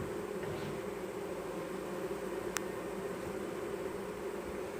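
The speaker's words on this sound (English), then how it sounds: "So here's the bees. They'll settle down." Honey bees buzz steadily at an open hive during sugar-water feeding, a soft continuous drone heard close up with no talking.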